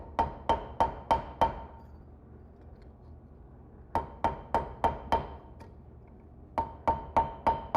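A blacksmith's hammer strikes an anvil while forging a horseshoe, in three quick bursts of five ringing metallic blows each, separated by short pauses, with no talking.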